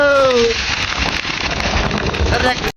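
Steady, dense patter of monsoon rain in Sakleshpur, close and loud, with a person's voice briefly heard at the start.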